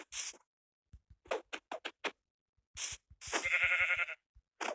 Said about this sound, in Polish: Mi ucieka ta owca